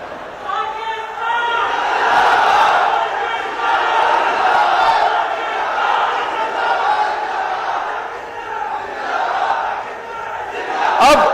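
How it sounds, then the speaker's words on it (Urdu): A large crowd roars a slogan in unison at a public gathering, loud and sustained with massed voices rising and falling for several seconds. "اب وہ نعرہ لگاؤں گا"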